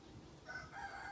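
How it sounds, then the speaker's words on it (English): Backyard chickens cluck faintly and a rooster gives a thin, drawn-out crow in the background, distant and quiet, with no talk over it. "Fucking chickens."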